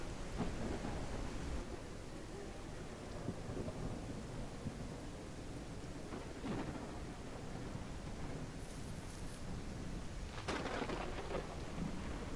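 Heavy video game downpour with steady rain hiss and low rumbling thunder swells throughout, fairly quiet and with no voices.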